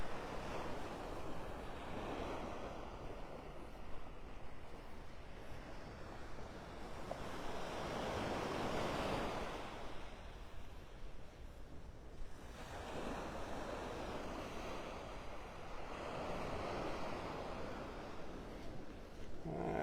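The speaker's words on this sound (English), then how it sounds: "that wind's still pushing off into the Gulf, so that's keeping the waves down" Calm Gulf of Mexico waves wash onto a beach in North Naples, Florida, in slow rolling surges about every few seconds, softly under a steady wind blowing across the microphone.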